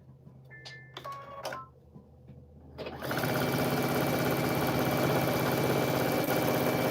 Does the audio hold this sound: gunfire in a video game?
no